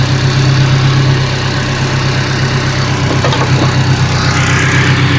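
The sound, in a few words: Nissan Hardbody SR20DET engine running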